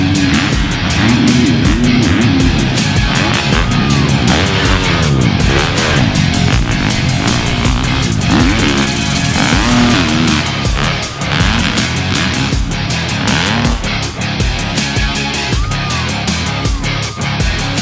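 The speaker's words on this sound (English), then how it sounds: "riding the Carson Brown FC250 race bike was a blast" Husqvarna FC250 motocross race bike ridden on a supercross track, its engine loud and continuous throughout with revving, shifting pitch as it accelerates and backs off, close to the microphone.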